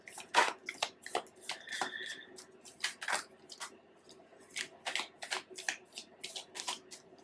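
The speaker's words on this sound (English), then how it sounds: "I'm just going to get a couple more cards." Tarot cards are shuffled and drawn by hand in a quiet room, giving a series of crisp, close riffling snaps and soft slides spread irregularly through the passage.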